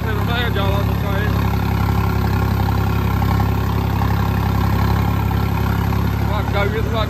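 A tractor engine drones steadily while pulling a planker across a field being prepared for potato sowing, a loud, constant low rumble throughout, with someone talking over it.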